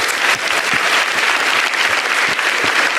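Sustained applause from the audience at a stand-up comedy show, a dense, even patter of many hands clapping close and loud for the full length, with no talk over it.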